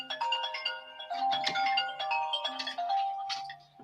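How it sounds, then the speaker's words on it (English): A mobile phone alarm rings near a quilting setup, a bright repeating electronic melody of chiming tones playing continuously and fairly loud throughout, with no talking over it. "I have a phone around here. There we go. That is my 12 o'clock warning."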